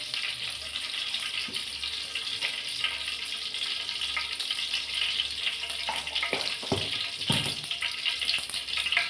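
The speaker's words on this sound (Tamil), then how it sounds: "கடுகு பொடியுது." Mustard seeds splutter and crackle in hot oil in a kadai, giving a dense hissing sizzle with scattered sharp pops, close and steady throughout.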